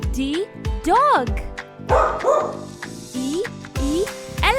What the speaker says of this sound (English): D, dog.